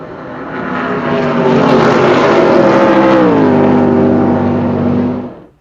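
HESS stock race cars roar past, the loud engine note swelling as they approach, holding steady, then dropping in pitch as they pass and fading out at the end.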